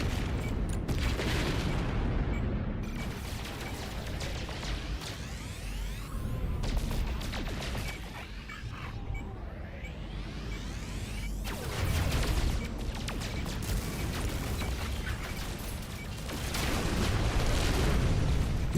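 Missiles exploding during a swarm battle in No Man's Sky: a continuous roar of blasts and booming impacts, with several loud bursts rising and falling over a dense rumbling background, no talk.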